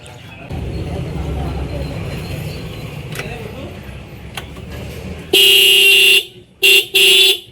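Bajaj Pulsar horn fitted on a Yamaha FZ-S motorcycle, sounding three loud, close honks, a long blast and then two shorter ones, after a stretch of engine rumble and talking.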